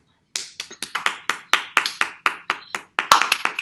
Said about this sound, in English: Should you be clapping your hands?